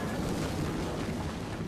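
A heavy, rumbling explosion with a broad roaring tail, loud and close, filling the short moment without any voices, in the video game Tomb Raider: The Angel of Darkness.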